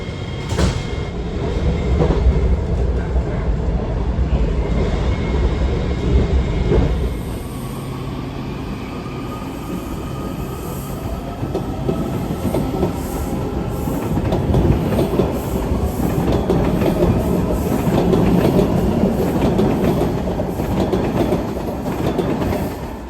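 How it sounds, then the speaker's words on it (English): A Washington DC Metro Orange Line train riding toward New Carrollton, heard from inside with a loud steady rumble, rhythmic clickety-clack of the wheels and faint squeals, continuous throughout. "I'm gonna get on a train in the direction of New Carrollton."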